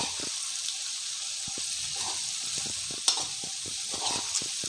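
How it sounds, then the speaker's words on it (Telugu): Cabbage curry is stirred in a frying pan and sizzles steadily throughout, with quick repeated scrapes and taps of the spoon against the pan close by and no talking. "ఇప్పుడు ఒకసారి కలుపుకుందాం."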